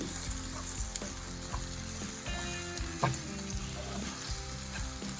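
Drumstick boondi masala curry being stirred in a pan, with a steady oily sizzle and frying hiss broken by repeated scraping and clinking of the spoon against the pan, close and moderately quiet, with no talking.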